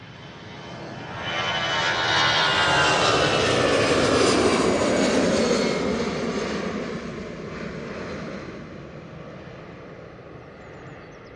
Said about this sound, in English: High flare there from the Virgin, but got it down right in front of the bump and taking that rotation angle off